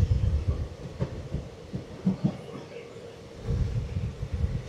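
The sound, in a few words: Mysuru Talaguppa Intercity Express train running at 60 km/h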